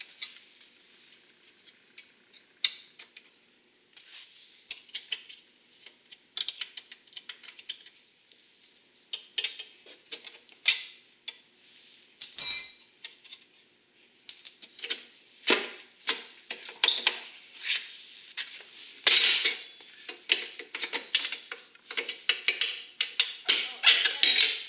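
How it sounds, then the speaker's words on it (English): Old bumper being taken off a Suzuki LT80 ATV with hand tools, heard as scattered metallic clicks, taps and scrapes of varying loudness, close by, with a denser run of clatter in the second half. "right now I'm just going to take the old bumper off"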